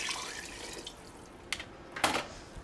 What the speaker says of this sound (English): Add a cup and a half of water.